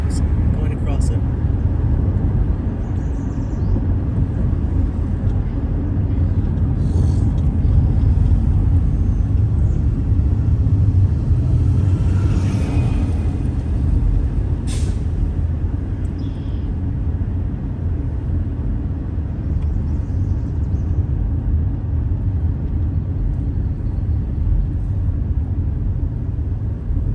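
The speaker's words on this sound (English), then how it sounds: "See all these cars coming. It looks like they just came across the bridge." Cars pass one after another over a narrow one-lane bridge on the way to Cherry Beach, heard from inside a vehicle as a steady low road rumble with passing swells, a voice talking over it.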